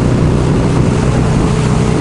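A motorcycle engine fitted with a Hammer 1275 kit drones loud and steady while riding, a constant engine roar mixed with wind rush and no pauses.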